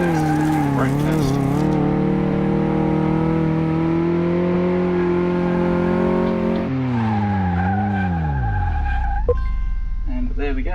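Car Mechanic Simulator 2018 test-track run during suspension and brake testing: a steady game engine drone with rising and falling pitch, tires squealing through turns, then the engine dropping to a low rumble as the car brakes hard near the end.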